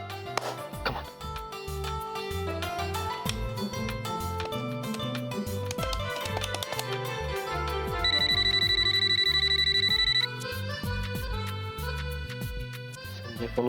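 A telephone rings in a TV serial scene, a brief bright electronic trill sounding for about two seconds partway through, set against background music.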